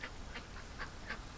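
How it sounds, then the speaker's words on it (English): A small group of ducks quacks in short bursts near a feeder where feed is being poured, four or five distinct quacks spaced over a second and a half against steady background noise. "I got this group of ducks that have come over to see me."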